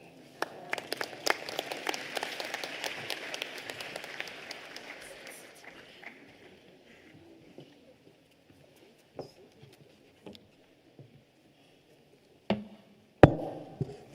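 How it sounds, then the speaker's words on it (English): Applause at a university graduation ceremony fills a large hall with dense clapping that thins and fades out after about six seconds, leaving a few isolated claps and knocks. "Shall we please give him another round of applause?"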